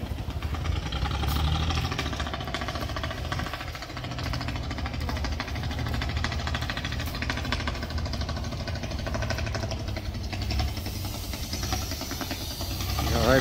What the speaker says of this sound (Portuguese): Estava esperando para dar uma volta nesse trator.